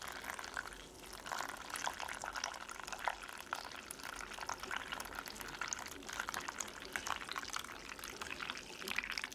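Hot water poured over coffee grounds at about 150°F for a bloom on 150 grams, a steady, soft, continuous trickle and splash lasting the whole stretch at fairly low level, with no talking.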